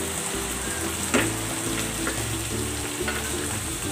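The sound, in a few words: flaked smoked fish (tinapa) sizzling in the pan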